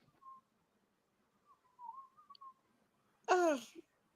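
A short whistled melody from a song, thin and wavering, followed by a brief burst of a different voiced sound near the end.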